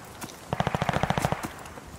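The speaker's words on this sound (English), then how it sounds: "Strafing run, ready for action." Rapid machine-gun fire from a strafing run in Call of Duty: Vanguard, about a dozen evenly spaced, punchy shots in one tight burst, preceded and followed by a few scattered distant bangs.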